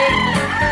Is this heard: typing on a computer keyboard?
no